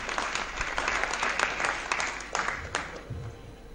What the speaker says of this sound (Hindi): बहुत जोरदार तालियों के साथ इस मुशायरे का आगाज आप करें पहले शायर के रूप में भाई पवन शर्मा